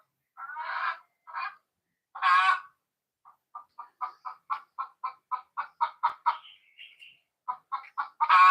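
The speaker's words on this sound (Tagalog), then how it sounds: "Ang ingay ng mga manok kasi naghahanap sila ng kanilang pangingitlugan." Chickens, hens seeking a place to lay eggs, cluck loudly and close by, with a few drawn-out squawks early on, then a rapid, rhythmic run of short clucks, no other sounds.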